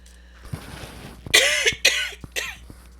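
Several harsh coughs in quick succession, close and loud, following some quieter rustling and shuffling.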